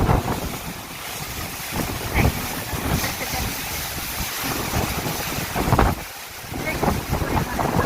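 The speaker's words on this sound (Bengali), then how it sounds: "আকাশের উপরে এত পরিমাণে বাতাস আর এত পরিমাণে বালি উঠতেছে, বাইরে থাকাটাও খুব কষ্ট কষ্ট।" Strong storm wind in Jordan whips up sand and dust, roaring and buffeting the microphone in continuous loud gusts with surging peaks throughout.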